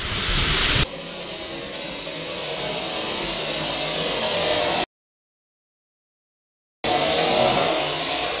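Hot Wheels Series 5 Corvette C7 Stingray toy cars race down a track with a loud, continuous rushing rumble that cuts out abruptly, then returns for a few seconds.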